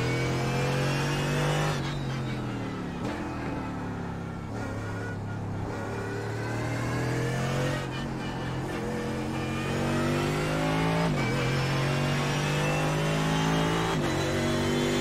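A Mercedes GT3 race car engine in iRacing at the Nürburgring roars steadily and loudly, its pitch climbing through repeated gear shifts with brief dips between each rising rev.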